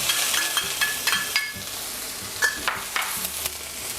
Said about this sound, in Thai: ใส่พริกกับกระเทียมที่เราตำไว้รวมถึงพริกแห้งลงไปนะครับ